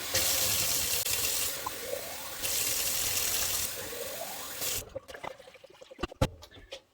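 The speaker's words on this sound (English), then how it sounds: "So, I'm going to put in hot water." Hot water gushes loudly from a tap into a pot for several seconds, then cuts off, leaving a few metallic clinks; pot is being filled for canning kidney beans.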